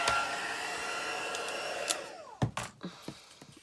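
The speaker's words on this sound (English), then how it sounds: "I'm going to dry that quickly because it's quite a large image." A heat tool blowing a steady whooshing roar to dry a bleached stamped card, running loud and even before cutting off, followed by a few light clicks and taps as it is set down.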